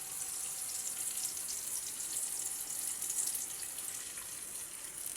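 About a cup of water poured into a pan of sautéed tomatoes for sweet and sour pompano, giving a steady, close hissing sizzle and bubbling that holds at an even level throughout.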